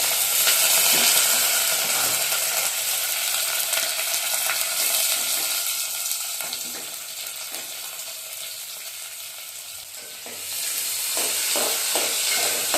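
Green chillies and onion frying in oil for tomato kurma, giving a continuous close sizzle and hiss that dips slightly midway, then swells again as the pan is stirred.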